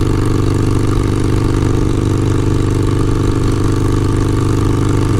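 Harley-Davidson motorcycle fitted with a Kinetic 'The Coil' exhaust cruising at 60 mph in fifth gear, a loud, steady engine drone with heavy wind rush, heard from the rider's position with the visor closed.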